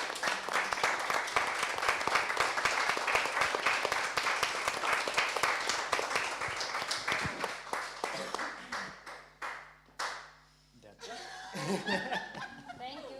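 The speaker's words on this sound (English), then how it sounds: "you should really give yourself a round of applause for the performance that you put today." Applause with scattered laughter and chuckles from an audience at a community-based arts session, dense steady clapping for most of the clip that thins out toward the end, with talk and a few voices emerging over the dying claps.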